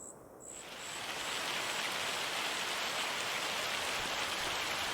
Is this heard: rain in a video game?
yes